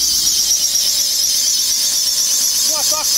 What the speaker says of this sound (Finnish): Laturi hihna rallahtaa vähän.